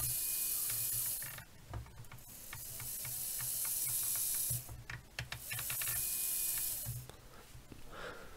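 Small DC motor driven by a TC118SS single motor driver under PWM speed control, its whine and buzz rising and falling in several bursts as the speed changes, close and alone with no talk.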